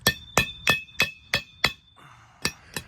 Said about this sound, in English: I had to get the hammer and kind of persuade that on the rest of the way.